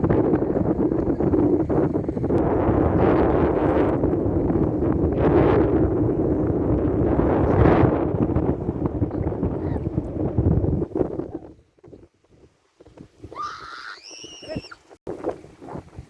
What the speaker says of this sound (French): Mais voilà ce que ça donne quand la mer monte.